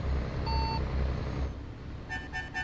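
Reversing beeps from a Scania truck in a truck-driving video game, several evenly spaced tones over a steady low engine drone, followed by a quicker run of higher beeps.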